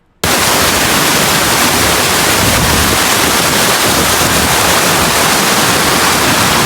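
Loud, dense roar of rushing water from a waterfall about half a kilometre away, steady and unbroken after a brief quiet start.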